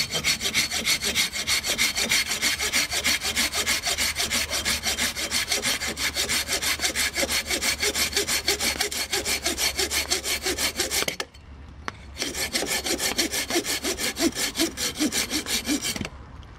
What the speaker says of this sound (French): Ah, vraiment un bon outil cette scie.